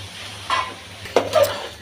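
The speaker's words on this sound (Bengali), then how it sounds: "তেলের মধ্যে এখন ভেজে নেব।" Rice and chopped carrots frying in oil for pulao, a short burst of sizzling with a couple of stirring scrapes in the pan, close and fairly quiet.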